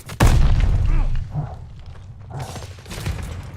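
A grenade blast in Call of Duty MW2, one sharp heavy boom up close that rumbles for about a second before fading into quieter game noise.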